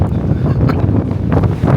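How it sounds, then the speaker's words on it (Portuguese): Strong coastal wind on the beach at Newport, Oregon, buffeting the microphone in loud, gusty rumbling bursts that fill the whole moment without pause. "por que você tá tanta ventania assim?"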